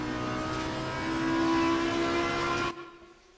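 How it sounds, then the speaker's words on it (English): Audi R8 EVO GT3 race car engine in Assetto Corsa Competizione at Suzuka, a loud sustained high-revving drone with a rising pitch that cuts off abruptly near the end, leaving a quieter tail. "Great sounding car. God, I love the sound of this thing."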